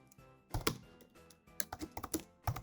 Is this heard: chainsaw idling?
no